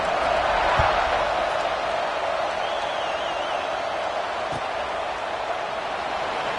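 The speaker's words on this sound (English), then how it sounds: "this crowd is buzzing after that last score" A stadium crowd in the College Football 26 video game buzzes steadily as a broad, even roar, holding at a constant level throughout with a couple of faint thuds and no voices standing out.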